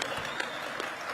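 Audience applause at FreedomFest 2023 in Memphis, a live political event: dense, steady clapping from a crowd, fairly even in loudness throughout and heard on its own without talk.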